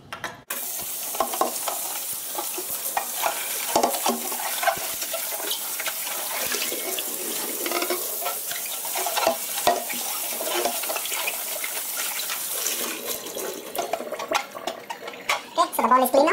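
Water from a tap pours and splashes over an Aerogarden Bounty bowl as it is scrubbed clean, a continuous rushing stream with intermittent clatter and sloshing up close.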